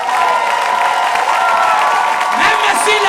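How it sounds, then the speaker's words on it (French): A church congregation at a Sunday worship service cheers and applauds loudly and steadily, with dense clapping and scattered shouts blending into one continuous wash of crowd noise. "On donne une bonne acclamation"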